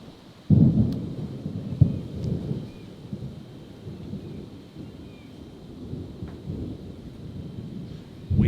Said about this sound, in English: We about to get into a storm